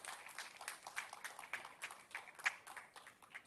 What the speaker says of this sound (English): A big round of applause for her too.